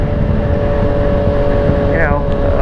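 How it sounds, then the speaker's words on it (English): Yamaha FZ-09 motorcycle fitted with an Arrow full exhaust, running steadily with a loud, constant engine drone and a brief rising whine partway through. "As you can hear, the new exhaust is on."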